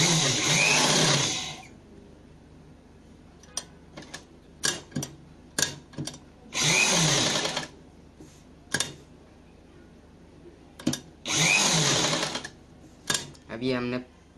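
Bursts of an electric sewing machine stitching piping onto fabric for a neckline come in several short runs separated by quiet gaps with small clicks and handling sounds.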